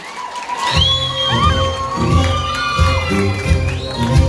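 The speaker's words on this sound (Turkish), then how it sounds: "O zaman bir alkış gelsin." Wedding guests in a hall cheer and applaud loudly for the groom, a steady wall of crowd noise with shouts and whistles lasting throughout.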